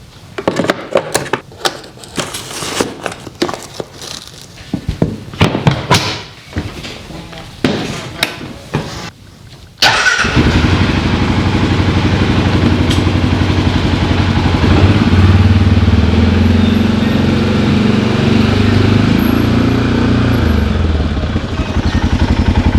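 An ATV fitted with an oversized battery clatters for several seconds of cranking and handling, then its engine catches at about ten seconds and runs on steadily, loud and close, with a low, constant engine drone.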